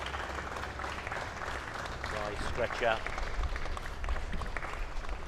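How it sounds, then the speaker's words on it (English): Spectators in a grandstand and players on the pitch applaud an injured player being carried off at a schools rugby festival, a sustained wash of clapping heard under a commentator's voice, with a few whistle-like tones mid-way. "Warm applause from everybody in the grandstand and the players on the pitch."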